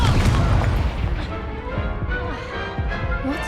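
A booming Confringo blast spell explodes during a duel in Hogwarts Legacy, a heavy burst at the start decaying into rumbling debris and crackle, with game voices and effects around it.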